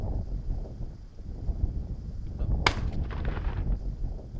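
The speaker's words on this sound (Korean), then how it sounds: "총소리에 놀라 사력을 다해 산으로 달려가는 녀석." A single sharp gunshot cracks out at night in a rainy rural village in Dangjin, South Chungnam, during a water deer hunt. It is a brief, fairly distant report over steady wind and rain noise.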